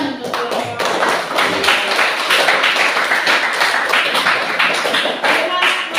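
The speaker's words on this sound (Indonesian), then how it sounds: "Tepuk tangan untuk kelompok." A classroom group claps together for a presenting team, a dense, steady patter of many hands filling the whole stretch at close range, with some voices mixed in.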